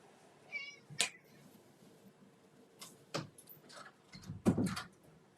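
A house cat gives a couple of short, faint meows against a quiet indoor room, with a few soft bumps and rustles around them and no talking.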